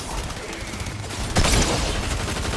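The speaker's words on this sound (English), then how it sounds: "Firework!" Fireworks burst in Fortnite as a dense crackling fusillade that swells to a loud peak midway, then keeps rattling on.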